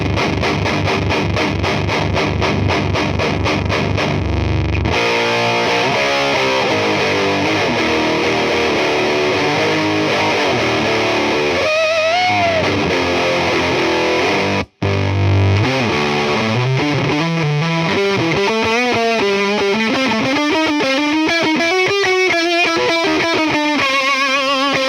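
Distorted electric guitar through a Bugera TriRec amplifier with the master volume cranked, moving from crunchy sustained chords to singing bent lead notes, loud and saturated with a brief cut in the middle and no talking.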